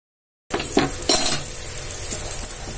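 Sweet potato cutlets fry in ghee in a pan, a steady close sizzle that starts abruptly, with a few metal clinks from a utensil as the cutlets are turned.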